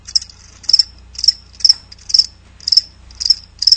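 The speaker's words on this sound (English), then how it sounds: "That's right, crickets." Crickets chirp in a regular pulsing rhythm, with about seven short trilled bursts at even intervals. The sound is clear and close, over a faint low hum.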